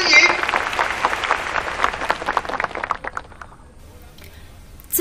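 A school audience applauds as a senior high student speaker is introduced. The claps are dense and steady, then thin out and fade after about three seconds, leaving near quiet.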